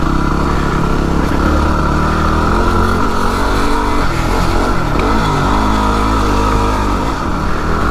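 Yamaha WR250R dual-sport motorcycle being ridden, its single-cylinder engine droning loud and close with a steady throb, slight rises in revs and constant wind rush, and no talking.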